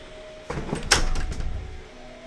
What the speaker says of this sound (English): Close the conservatory door, see if I can minimise the sounds.